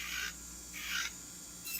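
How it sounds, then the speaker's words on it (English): An electric nail drill grinds gel product off a fingernail, with a faint high whirring rasp that rises and falls in short passes of about a quarter second to half a second, recorded up close and quiet. "Turning on my drill and then working"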